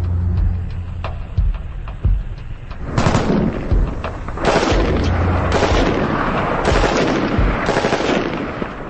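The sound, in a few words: M14 rifle firing in full automatic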